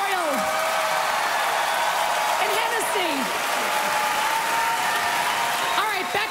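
Comedy club audience applauding and cheering at a stand-up show, a dense steady wash of clapping with whoops rising over it while a voice talks on top throughout.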